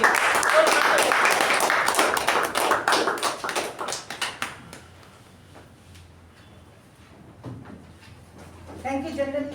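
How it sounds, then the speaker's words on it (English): Applause from a small meeting audience, dense clapping for several seconds that thins and fades out, followed by quieter room sound and a voice beginning to speak near the end. "Please give a huge round of applause for Jyothi."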